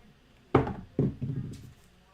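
A pair of craps dice thrown during a live dice-setting session hit the table with a crisp clack, bounce once more and tumble briefly to rest, close by with no talk over them.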